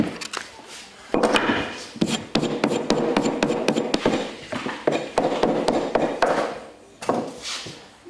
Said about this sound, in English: So we've got a little sanding block here, and a bit of leather